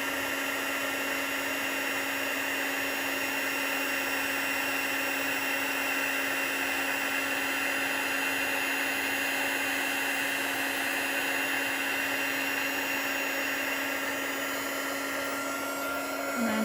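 A heat embossing tool blows steadily to melt stamping powder, giving a loud, continuous whirring hum with a fixed drone that holds unbroken from start to finish, with no voices.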